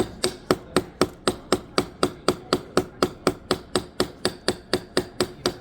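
Hammer tapping copper sheet to texture it, about twenty-four evenly spaced metallic strikes at a steady quick rhythm, close and moderately loud, with no talking.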